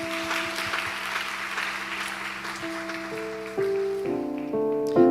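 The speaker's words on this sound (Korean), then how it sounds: "박수로 영광 올려드리겠습니다." A church youth congregation claps together through a worship service, a steady wash of applause while sustained keyboard chords play beneath and rise toward the end.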